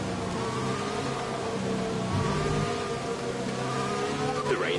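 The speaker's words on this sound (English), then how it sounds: "The rain is getting lighter now" Steady rain in the racing game F1 2020, a continuous hiss layered with droning car engine tones that stays at an even level throughout.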